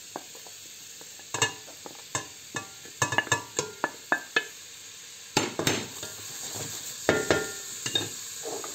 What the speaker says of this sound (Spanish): Cuando el aceite se caliente, añadimos nuestra zanahoria